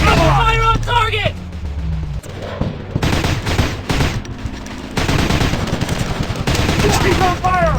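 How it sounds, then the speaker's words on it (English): Gunfire in a commando shooting video game, rapid bursts of automatic fire and scattered shots running throughout, mixed with game voice callouts and music. "Fire on enemy! Light him up!"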